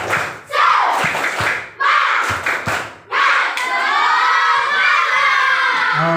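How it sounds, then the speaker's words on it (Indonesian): Schoolchildren in a classroom perform a rhythmic spirit clap, a few sharp hand-clap beats in quick sequence mixed with shouted chanting, then a loud sustained group shout and cheer. "Tepuk semangat."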